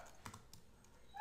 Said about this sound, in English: and you're going to start typing